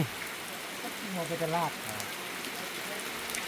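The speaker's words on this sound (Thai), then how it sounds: "ฝนตก" Steady rain falls throughout as a constant, even hiss, with a voice briefly audible in the middle.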